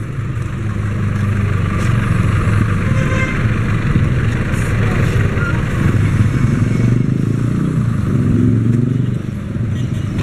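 Street traffic in Iloilo, Philippines, with jeepneys and motorcycles passing steadily, engines rumbling and clattering close by at constant loudness, while voices murmur faintly underneath.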